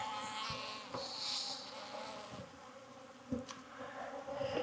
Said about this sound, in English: A couple of bees finding their way under my cuffs, I think.